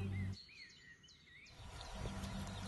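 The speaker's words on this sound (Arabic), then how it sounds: "ما أجمل صوت الطيور" Birds sing in a pleasant outdoor setting, with several short whistled chirps and trills rising over a low steady hum. The calls are light and moderately distant.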